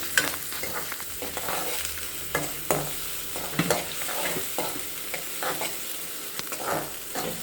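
Onions frying in a pan for egg fried rice, with a continuous crackling sizzle broken by repeated scraping stirs, close up and steady throughout, no voices.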